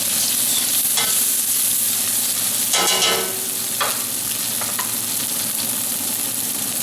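Mirepoix sizzles steadily and loudly in a pan just emptied of browned beef, a constant hiss of frying with a few scrapes and knocks as the vegetables are moved around.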